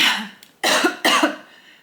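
Two sharp coughs from one person, close and loud, separated by a short pause, with a faint breath before them and no talk.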